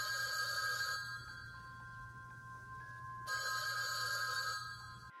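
A home telephone bell rings in two long trilling bursts with a quieter pause between them, steady and moderately loud against a faint background hum.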